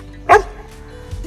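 A dog gives a single sharp bark on the spoken command to speak during a training session, close and loud, followed by a quieter stretch with faint low noise.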